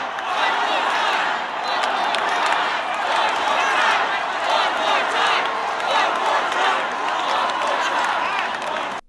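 A large Toronto concert crowd roaring and chanting after a song is performed, a loud, continuous wall of massed voices with pulsing swells, heard from within the audience.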